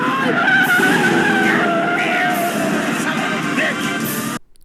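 Car chase through a cornfield in Tammy and the T Rex, with tires skidding and squealing under a revving engine, loud and close, and voices shouting over it before a sudden cut.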